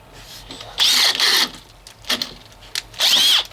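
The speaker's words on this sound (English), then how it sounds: "This drill is in high speed right now." A Makita XPH07 cordless drill spinning a 1-inch auger at high speed whines in three strong bursts with short pauses between them, and a voice speaks faintly beneath.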